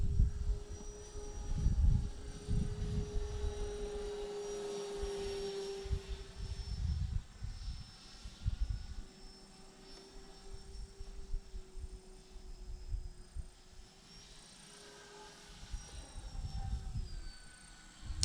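A Turbo Timber Evolution RC airplane flies overhead, its electric motor whine swelling and fading as it passes near and far, with gusty wind noise throughout.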